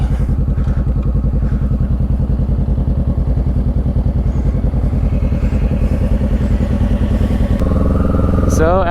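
A motorcycle engine runs steadily at a loud, close rumble throughout a short practice test ride, with a shift in tone near the end as it seems to change gear.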